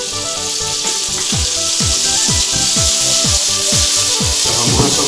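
Olive oil heating in a frying pan before lamb chops go in, giving a steady loud sizzle and hiss with repeated low thuds and scrapes throughout, and no talk.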